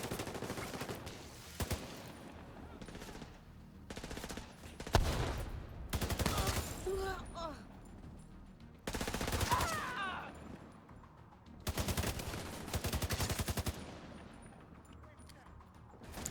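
Bursts of rapid automatic gunfire from a first-person shooter game, several loud volleys separated by short pauses, with a player talking over the shots.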